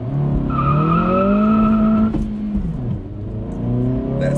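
A 2023 Acura Integra accelerating hard from a standstill in a 0-60 run, the engine note climbing through the revs, dropping briefly at a gear change, then rising again, loud and close from inside the car.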